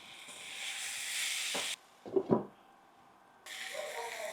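Eggs are added to a pan of fenugreek-leaf tamarind gravy for egg menthi pulusu, giving a steady sizzle that breaks off, a couple of clunks as they go in, then the sizzle resumes, close up.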